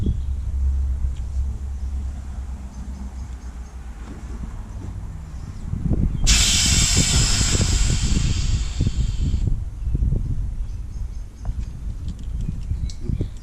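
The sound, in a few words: air hissing while inflating a Talamex QLA 270 inflatable boat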